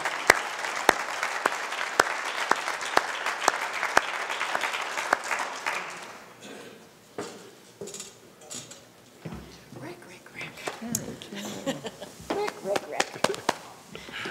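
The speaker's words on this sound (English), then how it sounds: "Please give her a big round of applause." Audience applause, a dense burst of clapping that gradually thins out into scattered claps and faint crowd murmur.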